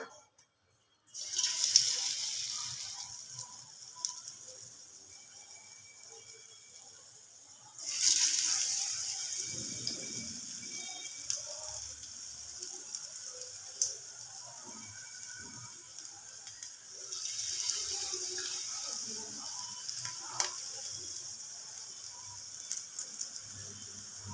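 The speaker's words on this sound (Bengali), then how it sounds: "তেলটা গরম হয়ে গেছে তো এবার আমি একটু একটু করে এই পকোড়াগুলো ছেড়ে দেব" Vegetable pakoras made with winter vegetables are dropped into hot oil over lowered heat and sizzle with a steady, close crackling hiss, rising in fresh surges each time more batter goes into the oil.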